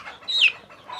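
Fayoumi (Egyptian) farm chicks peeping, a single clear high chirp in the middle with softer cheeps on either side, close and fairly quiet.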